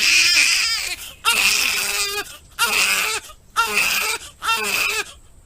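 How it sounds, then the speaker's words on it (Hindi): A newborn baby girl cries in a room, five loud wailing bursts separated by short gasping pauses, each cry strained and close with a rising and falling pitch. "कमरे से एक बच्चे के रोने की आवाज आती है।"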